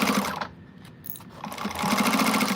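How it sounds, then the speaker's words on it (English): A sewing machine stitches a slouchy fabric shoulder bag with a short rapid run, a brief pause, then a longer fast burst of even, rattling stitches close by. "where we can sew fast"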